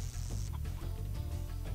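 A chicken clucks briefly in Spyro the Dragon, its short, close cackles sitting over steady game background music.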